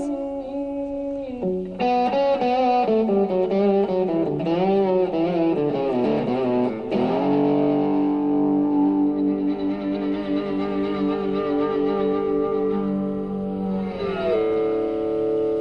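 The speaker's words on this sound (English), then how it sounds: "But how did you actually, get a guitar to make a sound like this?" An electric guitar run through processor effects produces exotic, voice-like gliding tones, first a quick run of bending notes, then a long sustained, reverberant swelling drone that holds before shifting pitch near the end.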